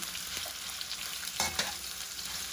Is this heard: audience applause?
no